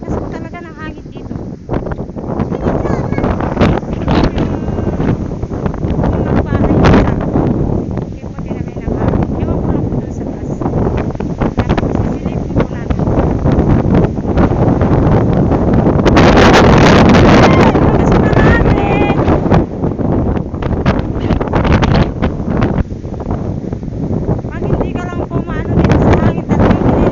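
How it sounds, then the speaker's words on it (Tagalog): Strong wind roars and buffets the microphone in gusty, uneven bursts near damaged coconut trees, loud throughout with a fiercer gust midway, while a person talks beneath it. "Sobrang lakas po talaga ng hangin dito."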